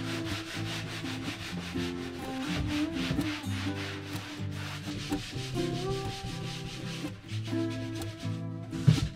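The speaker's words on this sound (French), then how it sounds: "Il me reste plus qu'à poncer tout ça." Hand sanding painted furniture during a paint finishing job, a continuous rhythmic scratchy rubbing with quick back-and-forth strokes, close and steady throughout with no talking.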